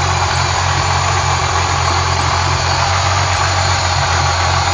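A supercharged Thunderbird engine runs steadily during break-in, a loud, unbroken drone with a strong low rumble and constant vibration, close and alone, with no voices.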